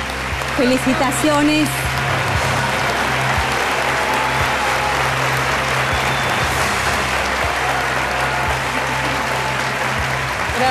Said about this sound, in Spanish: reciban el aplauso que se merecen